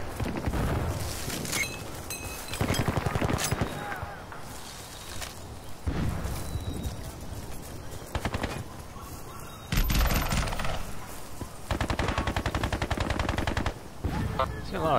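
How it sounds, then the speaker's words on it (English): Loud machine gun fire in Battlefield Bad Company 2 comes in repeated sustained bursts of rapid rattling shots, separated by brief lulls with softer ambient noise and scattered crackles. "A lot of tracer fire coming from the main island."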